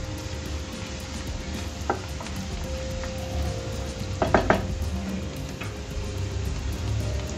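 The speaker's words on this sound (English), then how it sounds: "Please make sure you keep stirring it in between while the onions caramelize." Chopped chilli onions cook in a pan with a soft continuous sizzle. A spoon scrapes and taps against the pan a few times, with a small cluster of clinks midway, all close and moderate.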